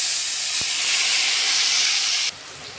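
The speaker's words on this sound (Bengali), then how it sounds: "পেঁয়াজটা ভেজে নিচ্ছি।" Onion paste sizzling in mustard oil with five-spice seeds, in oil left from frying snakehead fish for a curry; a steady, close, bright hiss that drops abruptly in level near the end.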